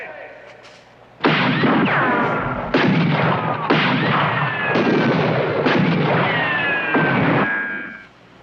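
A Western film shootout: loud volleys of gunshots crack out in repeated bursts about a second apart, with whining ricochets trailing off between them, and the firing ends abruptly.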